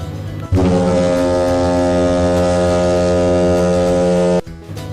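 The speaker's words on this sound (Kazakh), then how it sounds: "лайнер," A cartoon-style ocean liner horn blasts as one long, loud, steady tone held for about four seconds, rich in layered harmonics, then cuts off abruptly.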